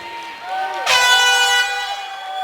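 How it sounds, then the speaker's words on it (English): A loud, sustained air horn blast from the crowd cuts through steady crowd noise at a high school boys' basketball game, with a harmonic-rich tone lasting under a second before the arena murmur continues. "An air horn from the crowd."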